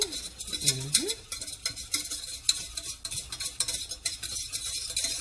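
A spoon stirs sugar into a chocolate bread pudding mixture of bread, melted butter and sugar, giving soft, continuous scraping and clinking against the bowl in close, steady strokes with no talking.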